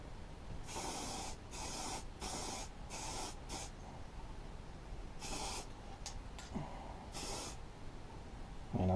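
Thick coating sprayed from an aerosol can onto rusty parts of an Earthquake wood chipper with a Briggs and Stratton Intek I/C 206 engine, in about eight sharp hissing bursts of varying length with short gaps, close and loud.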